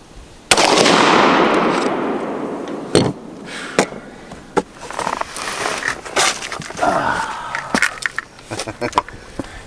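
A Glock 20 pistol firing cast lead 10mm reloads: one loud sharp shot with a long echoing decay, then a string of quicker shots and clatter, with faint talk in the background.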